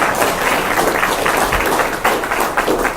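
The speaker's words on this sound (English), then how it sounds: "So I'd like to please give a warm thank you, a round of applause for our guests." Guests at a Capitol Hill discussion receive a loud, sustained round of applause from the audience, a thick continuous roar of many hands clapping at once.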